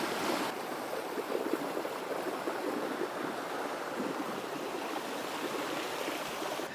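Water flows strongly outdoors in a steady, rushing hiss that holds at an even, fairly loud level throughout the stretch with no voices.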